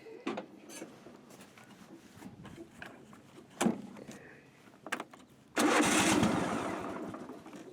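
A John Deere / Husqvarna riding mower engine cranks and fires at close range, a burst of loud broadband roar that holds steady afterward, following several seconds of quieter handling and rubbing noises.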